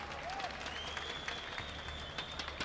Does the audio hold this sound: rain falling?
no